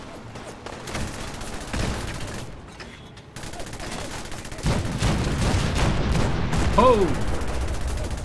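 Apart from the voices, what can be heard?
cannons firing in Fallout 4 video game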